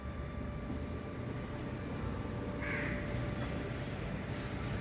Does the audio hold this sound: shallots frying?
no